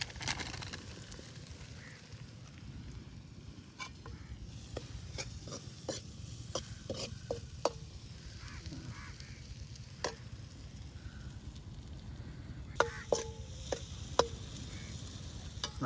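Crab roasting in a pan over an outdoor wood fire in the forest gives a steady low sizzle with scattered sharp clicks and scraping stirs, faint and continuous throughout.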